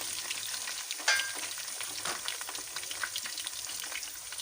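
Onions crackle and sizzle in hot ghee over fried ginger-garlic paste, a continuous bubbling hiss with small pops and a stirring scrape, fairly quiet and close.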